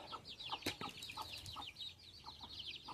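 A rooster clucks and chirps repeatedly at low volume, with a brief flap of wings among the calls.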